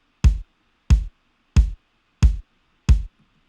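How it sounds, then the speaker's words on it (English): Unprocessed MIDI kick drum played dry, five evenly spaced punchy thumps about two-thirds of a second apart, each with a short click attack and a quick low decay, loud and alone with silence between hits. "I'm going to show you what the kick sounds like before any processing."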